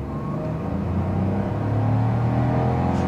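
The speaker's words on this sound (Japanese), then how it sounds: "あ、この辺りはねちょっと音が軽自動車っぽい音もするな。" A Honda S660 with a six-speed manual and a three-cylinder engine revs under throttle on a mountain pass road, a close, steady, rising hum that builds slightly toward the end.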